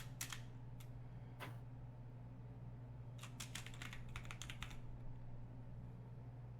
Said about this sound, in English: I'm typing. I'm doing something.